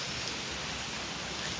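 Steady, even rain pours down in a brief, faint hiss of dense drops, with no voices.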